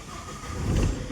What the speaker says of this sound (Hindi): ये देखिए अभी गाड़ी स्टार्ट हो गई